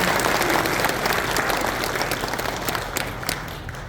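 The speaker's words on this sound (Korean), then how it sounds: "큰 박수 부탁드립니다." Audience applause at a community town-hall gathering as local dignitaries are introduced, a dense crowd clapping steadily and gradually thinning toward the end.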